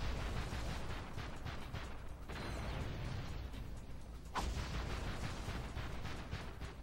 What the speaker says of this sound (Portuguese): Essa explosão aqui acaba nem me matando.